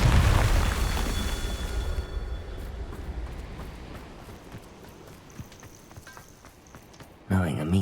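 Confringo spell blast in the Hogwarts Legacy game, a loud booming explosion that opens the clip and rolls into a long fading rumble and crackle, ending with a sudden burst of another sound.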